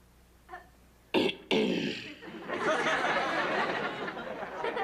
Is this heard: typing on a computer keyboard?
no